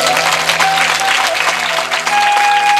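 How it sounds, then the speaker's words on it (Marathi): An audience at a kirtan claps loudly and densely, a continuous close roar of hands with a faint steady tone running beneath it. "एकदा आपल्या कडकडून टाळ्या वाजवल्या"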